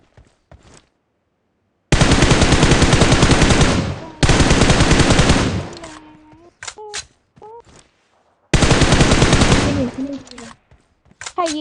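Bursts of automatic gunfire from the mobile shooter PUBG Mobile, three long loud volleys of rapid shots separated by short gaps, with brief voices and scattered sharp game sounds in between.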